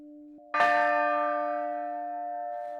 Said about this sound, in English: The bell is struck with a hammer to produce a sound